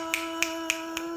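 Finger snapping used in place of clapping, five crisp snaps at an even, unhurried rhythm, close and distinct over a steady background hum.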